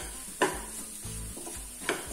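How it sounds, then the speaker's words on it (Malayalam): Masala for paneer masala sautés in a pan on low heat, a soft steady sizzle broken by two sharp clinks of a spoon scraping the pan, close and quiet with no talking. "നമ്മളിത് പച്ചമണം മാറണ വരെ നല്ലോണം വഴറ്റിയെടുക്കുക"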